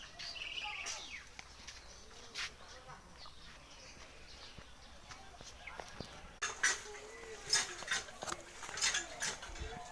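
Young broiler chicks, eight days old, chirp in scattered high peeps inside a small earth-and-straw shed, faint at first and then livelier and louder near the end, with a voice speaking over them.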